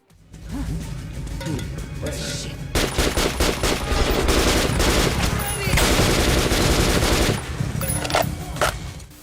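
A Kalashnikov-family rifle fires in the video game Metro, sustained loud automatic bursts of gunfire running for several seconds with a few gaps and clattering impacts.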